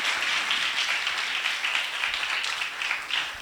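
Congregation at an Urdu-Hindi church sermon claps loudly and continuously, a dense, even patter of many hands filling the hall for a few seconds.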